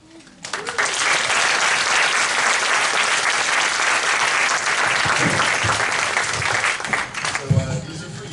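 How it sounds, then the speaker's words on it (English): A lecture audience breaks into loud sustained applause that swells quickly and holds steady for several seconds before thinning out, with voices faintly mixed in. "Can we get one more big round of applause?"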